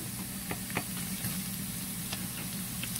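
Garlic and onion frying in a pan for chicken pastel give a steady, low sizzle with scattered faint crackles and a few light stirring ticks throughout.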